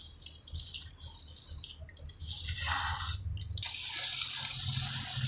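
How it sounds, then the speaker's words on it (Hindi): Water trickles and drips as sand is washed for a silt content test, with splashing that grows steadier and fuller over time and no talking. "ये धीरे धीरे वॉश होता जा रहा है।"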